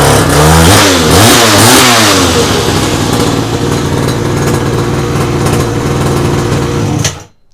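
Nitro Motors PS50 50cc pocket bike engine fires up and revs loudly with rising and falling pitch, then settles into a steady high buzzing idle close by before cutting off abruptly.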